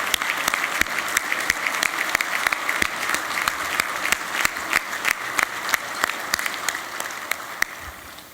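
Audience applause at an award ceremony for Senator Bob Dole, steady, moderately distant clapping from a sizable crowd with sharp individual claps standing out, sustained throughout.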